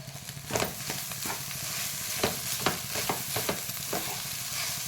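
Egg rice with onion stirred and mixed in a hot pan: repeated scraping strokes of a spoon over a soft, steady sizzle, close and fairly quiet, rhythmic but uneven, without talk.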